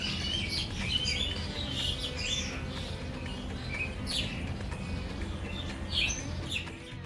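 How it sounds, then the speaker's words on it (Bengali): Many birds chirp and tweet in a banyan tree, a dense, continuous chorus of overlapping calls at close to moderate distance, steady throughout over a low outdoor rumble. "বট গাছে প্রচুর পরিমাণে পাখি আছে সে শব্দগুলো হয়তো আপনারা শুনতে পাচ্ছেন"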